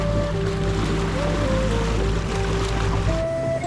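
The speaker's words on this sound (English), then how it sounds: "I have engaged the engine and engaged the overdrive function of the Foley propeller just to test it out" A sailboat's inboard engine runs at about 1700 rpm with its feathering propeller in overdrive, a steady low drone with tonal hum over rushing water, continuous and fairly close.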